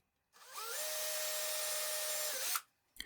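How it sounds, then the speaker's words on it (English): Power drill with a very thin bit boring shallow pilot holes for concealed cup hinges, a steady high whine held for about two seconds with a rising pitch at the start and a drop as it stops, alone and close. "with a very thin drill bit, I drill the pilot holes"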